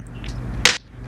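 An FM-synthesized clap built with a ratcheting envelope in Ableton: a single short, bright, noisy snap rising over a low synth hum, then cut off cleanly.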